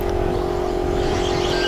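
A Schumacher Cat L1R 4wd radio-controlled racing car on a club track gives off a steady, loud motor whine and buzz that holds a constant pitch through the short moment.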